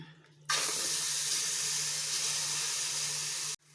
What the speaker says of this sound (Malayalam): ഞാനിതിൽ കുറച്ച് വെള്ളം ചേർത്തിട്ടുണ്ട്.